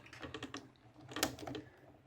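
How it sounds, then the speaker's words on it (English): Small clicking detents ratchet in the joint of a FansToys FT-07 Stomp transforming toy robot, quick light clicks in short bursts, close up, followed by a sharper snap. "It's actually got little detents in there, so you can hear that clickiness."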